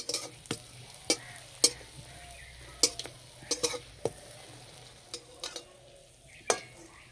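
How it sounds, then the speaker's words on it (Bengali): Gur pitha jaggery cakes fry in oil in a pan. A soft, steady sizzle carries sharp spatters and utensil clicks scattered through it, with no voices. "পিঠেগুলো ভেজে নেব।"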